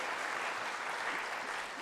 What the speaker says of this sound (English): Please give a round of applause for all of our nominees who've been invited to tonight's ceremony.